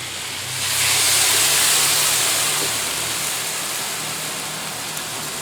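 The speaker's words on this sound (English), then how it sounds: "I'm going to add a little water to steam it right now." Water poured onto a hot Blackstone griddle steams a cauliflower steak, a loud broad hiss that swells after a second, then settles into a steady sizzle with no talking.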